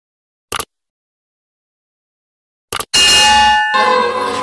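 Bell notification sound effect: two brief taps, then a loud, ringing metallic ding that sustains with bright overtones and is briefly cut before ringing on, heard alone.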